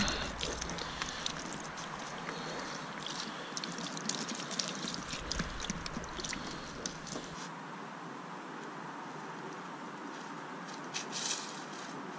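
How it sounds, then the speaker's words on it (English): Water splashes and trickles steadily against the inside of a car's front bumper, a continuous rushing pour with no talk. "Rinse the inside of the bumper down with some water."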